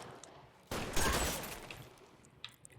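L.A. Noire shootout, a sudden burst of gunfire that erupts and then decays into a rolling, echoing rumble, with a couple of faint later shots. No voices over it.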